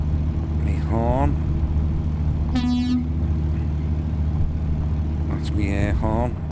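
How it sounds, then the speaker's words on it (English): Truck air horn in an Australian driving video game sounds one long, loud, strident blast midway, over steady engine drone, with shorter honks near the start and end. "That's me air horn."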